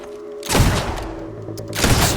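Gunfire in the video game Fable II: a heavy shot with a booming tail, a quieter stretch with a steady background hum, then a second shot near the end.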